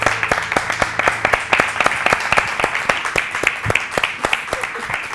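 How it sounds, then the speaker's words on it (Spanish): A TV studio audience on a Spanish entertainment show claps loudly and rhythmically after a song. The sharp, regular hand claps are close and steady, and a faint voice sits underneath. "¡Un aplauso!"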